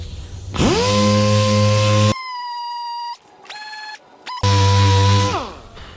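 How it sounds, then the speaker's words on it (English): A power sander with rough 80-grit paper knocks down high spots on a car bumper before a body filler repair. It whines up loudly, holds a steady harmonic drone with brief shifts in pitch, then winds down. "you can use a nice rough 80 grit or something just to sand them away"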